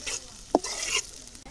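Cinnamon and cardamom frying with onions in a pan for khichuri, a steady close sizzle with a stirring scrape and one sharp clink partway through, no talk.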